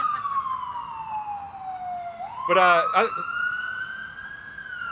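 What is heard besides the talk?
emergency vehicle siren passing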